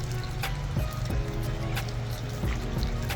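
Water runs and trickles over a water lily rhizome as dirt is rinsed from its roots, a soft, continuous splashing and dripping with a low steady flow.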